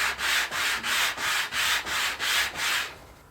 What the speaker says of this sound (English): we just want to give them a very light sanding on all sides just to clean up